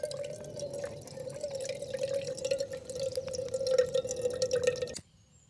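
Steady, close dripping and trickling of river water passing through a camping filter, a continuous liquid patter that runs about five seconds and then cuts off abruptly into near silence.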